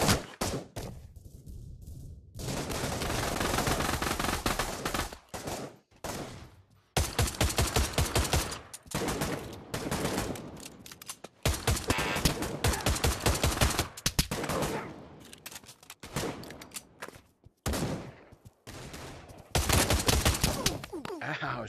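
Dense, loud bursts of automatic gunfire from the VR shooter Pavlov VR rattle almost continuously, broken by brief gaps and a few short pauses between long sustained volleys.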